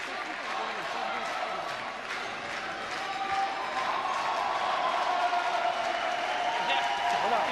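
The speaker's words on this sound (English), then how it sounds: "the pom-poms are waving, crowd are happy" Crowd noise at an Olympic qualification curling event between the Czech Republic and the Netherlands, a sustained wash of cheering and applause in a large arena, heard under a commentator's voice.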